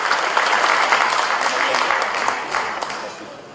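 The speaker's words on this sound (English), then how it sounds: "Please give an applause for Mr." An audience applauds for Jakarta's Anies Rashid Baswedan as he comes to speak: a dense, continuous wash of many hands clapping together, loud and close, easing slightly toward the end.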